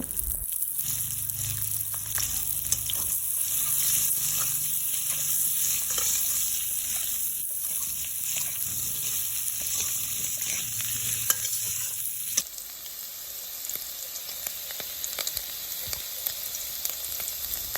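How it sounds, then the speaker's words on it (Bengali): Potatoes with turmeric sizzle steadily in hot mustard oil for a long stretch, close by, with occasional stirring scrapes and a brief drop in intensity near the end. "এবার আলুগুলোকে হলুদ দিয়ে সুন্দর করে ভেজে নেব"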